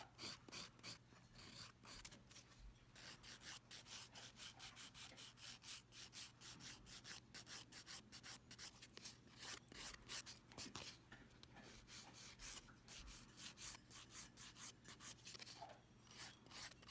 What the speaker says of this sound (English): you can use your fingernail file to just lightly file that